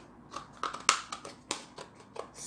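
A handful of crisp snips from Japanese bonsai scissors, close up and sharp, spaced unevenly over a couple of seconds with no voices.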